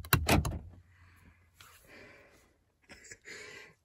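Car door slammed shut with a sharp loud thump and rattle at the start, followed by softer rustling and clicking sounds of movement inside the car.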